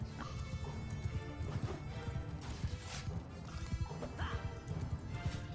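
Horses galloping and being struck in a Mount & Blade Bannerlord battle, heard as a dense rumble of hoof clatter with scattered impacts and crashes, steady and fairly loud throughout.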